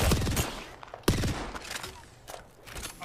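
Gunfire from the Apex Legends video game: a burst of automatic shots at the start, then a sharp loud shot followed by scattered bursts, with game sounds and faint footsteps underneath.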